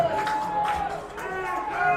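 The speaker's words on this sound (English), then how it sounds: "the York crowd will try and get the defense involved here" A home crowd cheers at a York High School varsity football game against Hastings, a steady roar and chatter that rises and falls throughout.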